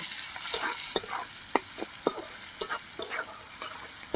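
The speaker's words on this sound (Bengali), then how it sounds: "এবার আমি উচ্চাটা লাল করে ভেজে নিচ্ছি।" Bitter gourd pieces, seasoned with salt and a pinch of turmeric, fry in a pan with a constant sizzle punctuated by repeated sharp clacks of a stirring utensil.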